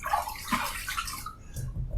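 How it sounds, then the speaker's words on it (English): Water splashed onto a face for rinsing before a shave, with several close, wet splashes and dripping, then a brief pause and a low gurgle from the basin. "let me just rinse my face one more time."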